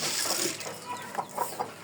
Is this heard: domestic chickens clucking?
yes